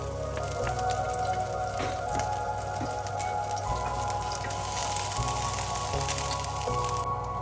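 Garlic, green chillies and curry leaves sizzle in hot oil in a pan, a steady crackling hiss with scattered pops, heard alone and fairly quiet.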